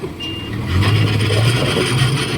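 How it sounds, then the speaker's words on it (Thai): Dump truck straining on a soft, sticky dirt track beside a Komatsu PC130-8 excavator, its transmission giving an odd, rough grinding drone under a steady engine rumble, with a brief high beep. "เสียงเกียร์รถคันนี้มันดังแปลก"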